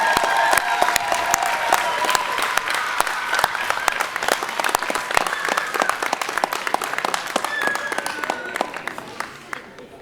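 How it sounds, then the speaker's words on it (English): Audience applause at a BRCC Praxair Skills Pipeline Program graduation ceremony, many individual claps forming a lively, sustained crowd ovation with some cheering and voices, gradually tapering toward the end. "let's give everybody a round of applause one more time"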